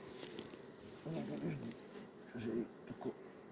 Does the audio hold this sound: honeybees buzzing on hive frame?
yes